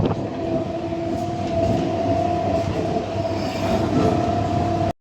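Almost empty passenger train running, heard from beside the open door: a loud continuous rail roar with a steady whining hum and faint wheel squeal, no voices, cutting off abruptly at the end.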